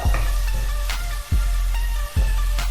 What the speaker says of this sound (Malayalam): സവാളയും ചേർത്ത് നന്നായിട്ട് ഇളക്കിയെടുക്കാം